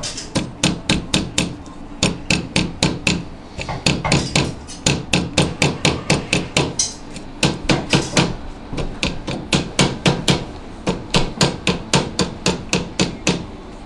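Rapid, sharp hammer taps on a shoe in a cobbler's workshop, delivered in quick bursts of several strikes with short pauses, close and crisp.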